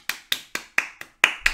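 Hand clapping: seven sharp, close claps at a fairly steady, unhurried pace, crisp and alone, the last two a little louder.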